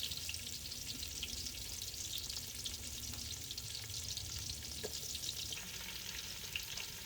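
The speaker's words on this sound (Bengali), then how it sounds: "এখন আবার রসুন কুচি, পেঁয়াজ কুচি দিয়ে একটু ভেজে" Chopped garlic and onion fry in oil with a soft, even sizzling hiss, fairly quiet and continuous, with faint occasional crackles and no talking.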